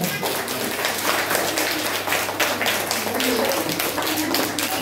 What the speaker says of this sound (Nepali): ताली बजाइदिनु सक्दै